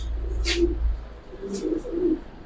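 Loft pigeons cooing, low droning coos repeated a few times over a steady low hum.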